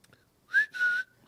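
A short whistled phrase of two sustained tones, the second held slightly lower, close and clear.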